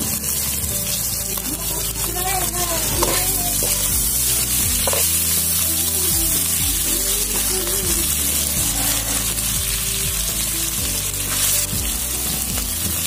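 Fatty meat, already boiled, sizzling in its own rendered fat in a pan, a loud continuous frying hiss with repeated stirring scrapes and clinks throughout.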